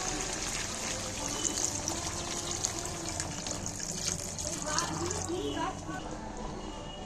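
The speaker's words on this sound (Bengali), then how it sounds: "একটু সামান্য গরম জল দিচ্ছি" Warm water is poured into a pan of chicken and potato curry, giving a steady, close gushing stream that runs continuously over a busy kitchen background.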